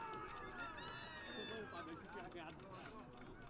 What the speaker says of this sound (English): And there they go, they're cheering.